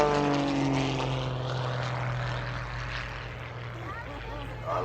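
A Wolf Pitts biplane with a 400 horsepower engine flying overhead, its steady droning propeller roar loud and continuous with a slight fade, no speech.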